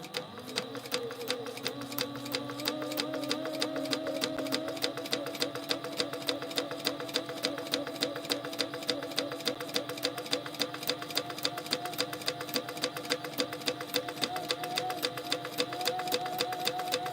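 A sewing machine runs a long, continuous top-stitching pass on a backpack, its rapid even needle rhythm holding near and steady with a faint motor hum beneath.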